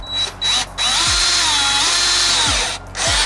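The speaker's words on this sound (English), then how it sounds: "So let's start drilling in." A power drill bores into the front bumper of a Subaru BRZ to mount a DevSport splitter, whining loudly and steadily, briefly starting and stopping before running continuously and then trailing off.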